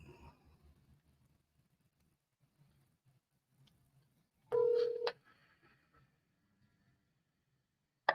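A phone call placed to a mobile number, with a few faint dial or key tones, then a brief loud electronic tone burst and a sharp click at the end as it connects to voicemail; no one speaks.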